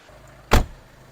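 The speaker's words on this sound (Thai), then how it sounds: "เสียงปิดประตูนี่แน่นมากๆนะผม ตึบๆ เลยนะ" A single solid thud as the door of a Mercedes-Benz C300 Bluetec Hybrid AMG Dynamic W205 is shut, short, heavy and close, with quiet surroundings before and after.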